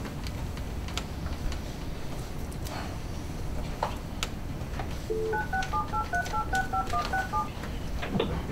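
Touch-tone DTMF dialing tones on a conference call line, a rapid run of about a dozen short beeps in an irregular rhythm over steady line hiss, fairly clear and alone with no talking.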